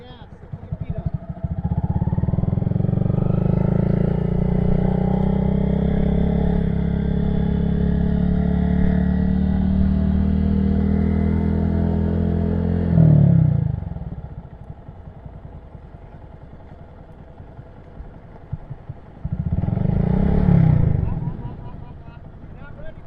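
A 2022 Honda Grom motorcycle engine revs and pulls away, a loud close buzzing drone with rising pitch for several seconds, then a drop to idle and a second short burst of throttle, with people talking throughout.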